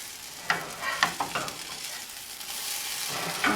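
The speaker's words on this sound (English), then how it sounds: "Now let them fry for around 7 minutes." Potato pancakes frying in a pan on a gas stove at a medium-high flame, a steady close sizzle with a few sharp spatula scrapes and taps near the start and end.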